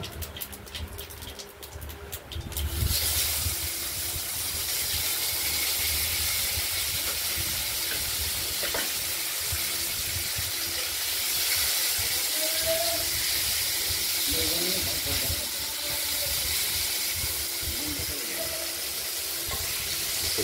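Potato pieces fry in hot oil with bay leaves, dried red chillies, cardamom, cinnamon, cumin and nigella seeds for a potato and catla fish curry. After a quieter start, a loud, steady, close sizzle holds unbroken to the end.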